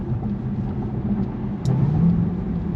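An 800-horsepower Cadillac CTS-V on 93 octane pulls hard through its gears with a steady low engine roar, a brief shift break and then a louder surge as it keeps accelerating.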